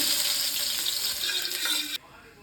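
Garlic sizzles in homemade ghee in a pan, a bright, close frying hiss that stays steady for a couple of seconds and then cuts off abruptly.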